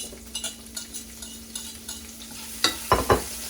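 Green onions are added to a hot frying pan and stirred, with soft sizzling and a quick run of sharp metal utensil clanks near the end, close and without talk.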